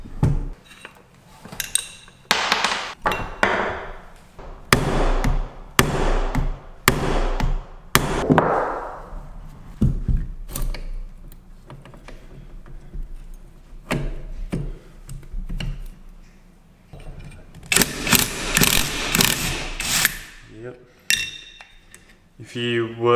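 Metal tapping and hammer strikes on a Yamaha XT225, knocking down lock tabs so a nut can be undone. Sharp clanks come in bursts, some close together, with quieter spells and a dense flurry of hits near the end.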